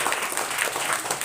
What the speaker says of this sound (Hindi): इसके लिए जोरदार ताली मार दीजिए।